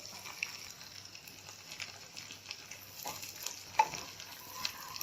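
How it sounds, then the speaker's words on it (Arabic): Tadheeka fries in a spoonful of butter and a spoonful of oil, a soft, steady sizzle with gentle crackle and occasional stirring scrapes, fairly quiet and close. "دي بتتحمر وبعد كده بنطشها فوق القلقاس"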